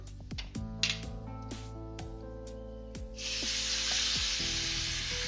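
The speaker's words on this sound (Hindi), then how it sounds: "थोड़ा सा ऑयल गरम करेंगे। इसमें आप सबसे पहले हींग डाल दीजिए।" Asafoetida and spices hit hot oil in a pan, bursting into a loud, steady sizzling hiss about halfway through, with soft tonal background music underneath throughout.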